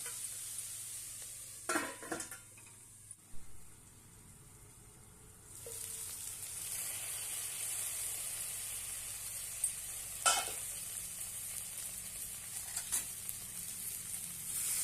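Methi dal vegetables cook under a lid in a pan, giving a steady soft sizzle with a few brief clinks and scrapes early on, then a more even hiss with occasional light taps.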